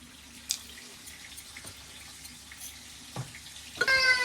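Water splashes and trickles while a cooking vessel is rinsed in a home kitchen, faint scattered drips and pours building to a louder gush at the end.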